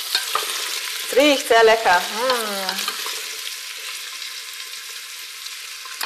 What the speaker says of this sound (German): Bis die Zwiebeln ungefähr so goldbraun sind oder bis es angedünstet ist einfach